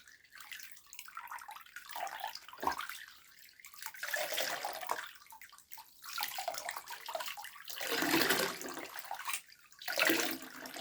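Water splashes and pours in bursts over a child in a bathtub, with quiet gaps between the pours, close by.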